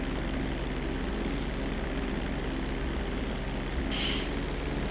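A slow, wobbly propeller airplane drones steadily in GTA 5 Online, a continuous loud engine hum with a brief higher-pitched blip near the end, no talking.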